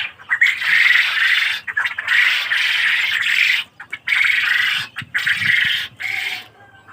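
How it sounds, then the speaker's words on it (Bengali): A close flock of Japanese quail keeps up a busy run of shrill, repeated chirps and squawking calls in loud bursts separated by brief pauses. "এগুলো একদম অরিজিনাল জাপানি কোয়েল পাখি এগুলো।"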